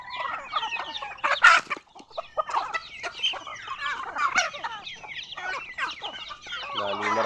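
Native chickens on a farm cluck and squawk in a busy, irregular chorus of close, overlapping calls, with a brief crow-like burst near the start and a low-pitched call at the end; no talking.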